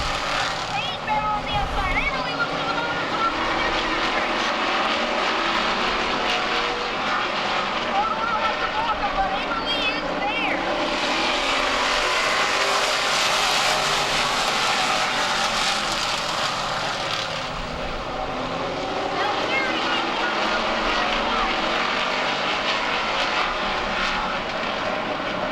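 Race cars restart on track after a spin-out, their engines droning loudly and continuously and swelling as they pass, with a voice talking over the noise.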